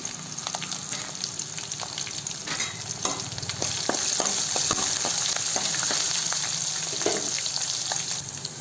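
Garlic, dried red chillies, curry leaves and asafoetida frying in oil in a pan, giving a steady close sizzle broken by occasional scraping stirs that grows slightly louder midway.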